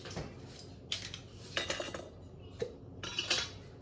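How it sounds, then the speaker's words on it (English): A metal lid handled and set onto a pot of Jamaican-style cabbage, producing several close clinks and clatters of metal on metal spread over a few seconds, with no speech. "I'm gonna cover with a lid and let that cook"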